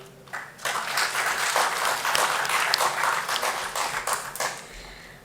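A crowd at a tech summit gives a round of applause, the clapping swelling after a brief quiet start, holding steady and moderately loud, then thinning toward the end.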